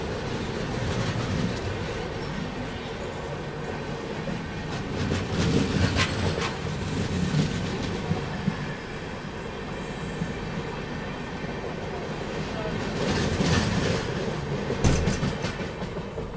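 A second-class coach of the Bengaluru to Nanded train rolls along the rails with a steady, loud rumble and faint rhythmic clatter, swelling in bursts, with no voices.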